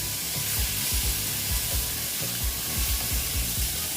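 Grated onion frying in a pan gives a dense, continuous sizzle with soft repeated scraping as it is stirred, close and steady throughout.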